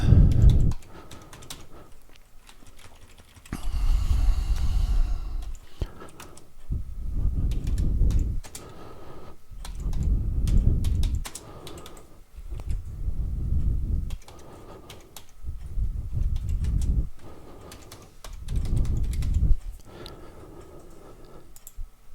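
Sender details being typed on a computer keyboard, coming as several separate bursts of quick, close key clicks with short pauses in between and no talking.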